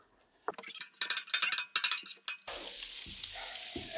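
Sausage, onion, garlic and jalapenos sizzle in a pan, first with several close stirring scrapes and pops, then settling into a steady, soft frying hiss.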